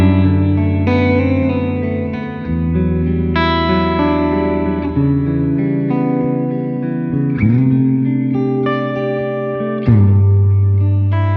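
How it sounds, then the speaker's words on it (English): Electric guitar played through a Searchlights reverb pedal plus room reverb set wetter, sustained chords and notes ringing with a thick, washy tail, a new chord struck roughly every two to three seconds, loud and close with no voices. "Now I've go more wet with the Searchlights and the room reverb."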